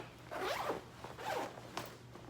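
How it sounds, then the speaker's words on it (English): A garment bag's zipper is pulled open in three quick rasping strokes, close and clear, with no talking. "if I open up the zipper here"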